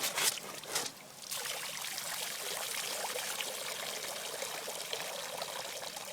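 Water pours and trickles steadily through small drilled holes in an inflatable boat's floor, a continuous close splashing stream after a brief rush at the start.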